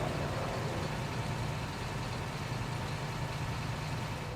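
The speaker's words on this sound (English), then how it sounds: "we got idling diesel noises." A diesel engine idles in a city street, producing a steady, low, throbbing rumble that stays constant throughout with no voices.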